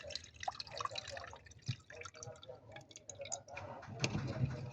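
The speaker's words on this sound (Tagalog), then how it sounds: "Tubig sa bowl." Water poured into a bowl while making a banana snack, heard as faint trickling and dripping with small clinks, quiet and close.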